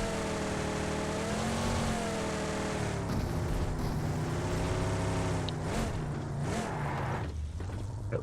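A video-game car drives by with a continuous engine drone whose pitch swells and dips as it accelerates and passes, loud and alone without talk.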